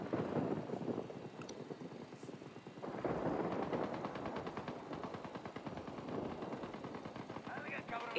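Rapid bursts of automatic gunfire ring out through a video game firefight against cartel reinforcements, repeated rattling volleys under a busy, dense background mix.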